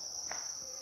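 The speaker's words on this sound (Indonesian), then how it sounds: "Ini adalah indukan kita, jangkrik indukan yang siap bertelur." Breeding crickets kept for egg-laying in a cricket farm chirp in a steady, continuous high trill, close and alone with no talk.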